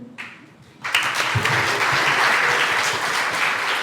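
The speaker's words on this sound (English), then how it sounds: "a round of applause once again for Mr. and Miss Madang Resort" A pageant audience bursts into loud, sustained applause after a brief quiet moment, the clapping dense and even and filling the room until the end.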